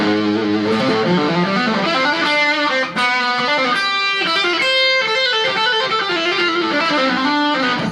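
Fast legato run on electric guitar with a distorted tone, dense cascading notes pouring out continuously and loudly, played alone.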